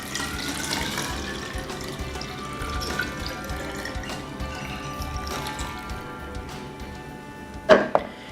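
Distilled water pours steadily into a container holding a tensiometer, a continuous close trickling fill with a sharp knock near the end.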